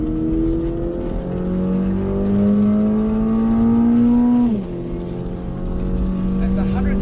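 A 2023 Toyota GR86 engine revs hard and climbs steadily in pitch, drops briefly at a gear change into second, then pulls again, loud and close.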